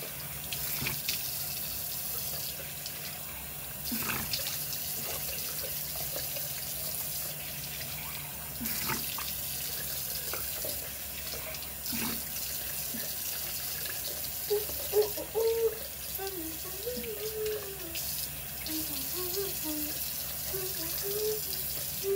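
Tap water runs steadily into a sink during face washing, a soft continuous stream with faint splashes and occasional small knocks, heard close and fairly quiet throughout.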